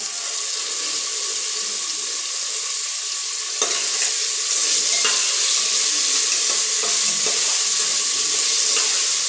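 Rice frying with carrots in a pan, a steady loud sizzle that jumps in intensity as the carrots go in, followed by scattered scraping clicks of a spoon stirring through the grains.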